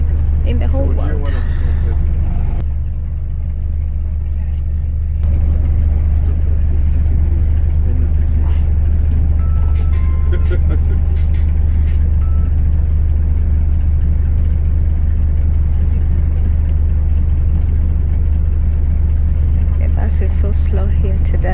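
Busy London road traffic heard from aboard a full, slow-moving bus: a constant loud low engine drone and whir with passing vehicles, with a voice talking over it.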